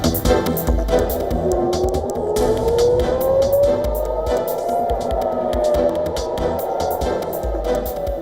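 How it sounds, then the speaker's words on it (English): A rising and falling air raid siren wail drifts over steady background noise and hum in Israel, sustained and moderately loud, sounding distant and outdoors. "Sirens sounded across Tel Aviv, central Israel and Jerusalem several times overnight"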